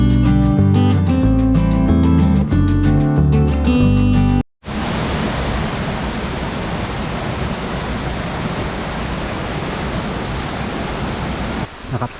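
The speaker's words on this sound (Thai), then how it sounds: "แล้วก็เสียงน้ำตกนะครับ" Music plays first, then cuts to the loud, constant broadband rush of a waterfall in the Phu Kradueng forest, heard up close and unbroken.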